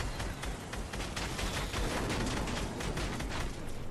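Dense, continuous rumbling blast noise in a battle-royale video game, a loud, broadband explosion-like roar sustained throughout with no pauses.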